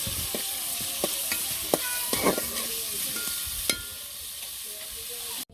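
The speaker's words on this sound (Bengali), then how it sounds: "মূলাগুলো আমি কিন্তু প্রথম থেকে লাল করে নিচ্ছি।" Radish pieces frying in a pan for a home-cooked meat curry, a continuous hiss with scattered stirring scrapes and taps, close up, with no talking.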